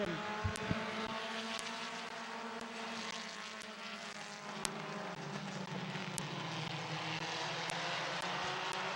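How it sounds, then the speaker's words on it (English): Race cars roar around Midvale Speedway as green-flag racing resumes, a steady, dense engine drone that is distant and continuous, with faint ticks, and no talking. "As they come into 3, they're rolling into 4. We're going green flag racing."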